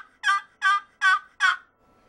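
Four loud, evenly spaced raspy yelps from a wooden box call imitating a hustling hen turkey, each stroke clear and close with short gaps of silence between.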